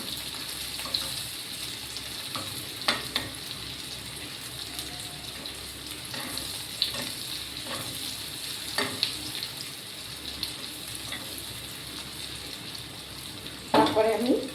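Food fries slowly in hot oil over a low gas flame, a soft steady sizzle with occasional clinks and stirring taps and a louder crackle near the end.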